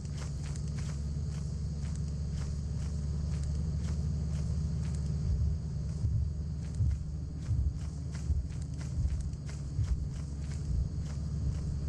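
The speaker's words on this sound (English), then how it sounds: "Just listening for the footsteps." Steady footsteps tread in a regular rhythm through most of the stretch in the video game Lethal Company, soft but distinct thuds over a constant low ambient hum, with no talking.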